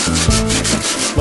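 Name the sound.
sanding pitted rusty metal on a Ford F100 truck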